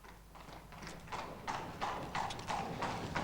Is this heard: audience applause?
no